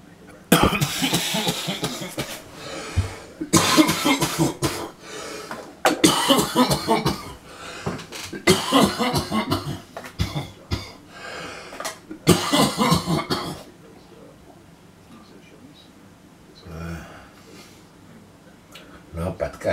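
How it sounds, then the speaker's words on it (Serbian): A man has a coughing fit: repeated harsh bursts of coughing close to the microphone, coming in several clusters, with quieter pauses between them and a long lull near the end. "Napad kašija."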